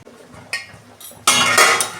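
A metal lid is set onto a cooking pan of fish and vegetables. A couple of light taps lead into a loud, bright clatter as the lid settles and rattles, then rings briefly.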